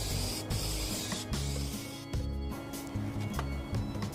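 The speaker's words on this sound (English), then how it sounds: "I got to spray the inside, the belly, so it won't rust, the racks, and the 2 little doors" Spray paint hissing from an aerosol can while refinishing the inside of a military camp stove, its belly, racks and two small doors, in close bursts broken by short pauses, with low clattering handling sounds beneath.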